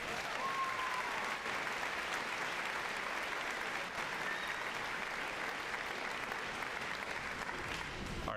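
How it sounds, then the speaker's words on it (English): Sustained applause from a large audience at a high school graduation fills the room, steady and even for several seconds, with faint voices mixed in. "Let's have another round of applause for all of our class teachers."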